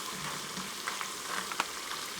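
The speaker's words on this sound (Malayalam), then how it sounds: "ബ്രൗൺ ആയി വന്നിട്ടില്ല, അപ്പോൾ ഇത് കുറച്ച് നേരം കൂടി ഫ്രൈ ആവട്ടെ." A Kerala snack fries in hot oil with a steady close sizzle, while light scraping and clinking from the stirring spoon break through in brief taps.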